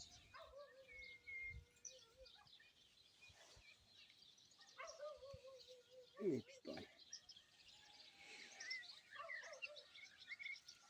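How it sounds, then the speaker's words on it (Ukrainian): Distant dogs barking intermittently across a village in the early morning by a fishing pond, mixed with bird chirps and faint voices, quiet overall. "Собаки по селі брешуть."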